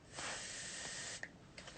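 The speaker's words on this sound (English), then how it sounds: "But you can spray it with hairspray." Hairspray hisses onto an eyebrow spoolie in one short, soft burst close by, followed by faint small handling clicks in a quiet room.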